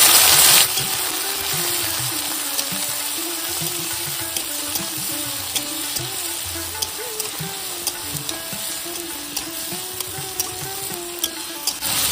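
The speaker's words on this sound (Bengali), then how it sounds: "এবার দিয়ে দিচ্ছি 2টো পেঁয়াজ কুচি। ভালোভাবে একটু কষিয়ে নেব পেঁয়াজটা।" Chopped onions (two) sizzle steadily in hot oil in a pan while being stirred for chingri malai curry, a loud continuous frying hiss with small scraping clicks of the spoon.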